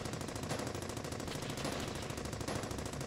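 An enemy MG in the Brothers in Arms video game fires a continuous machine-gun burst, a dense, rapid rattle of shots heard at moderate level over a noisy battlefield background.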